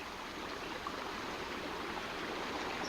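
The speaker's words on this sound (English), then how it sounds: "Creek is a little low this weekend" A somewhat low creek flows at a swimming hole, giving a steady, soft rushing and trickling wash of water that stays even throughout with no other sounds.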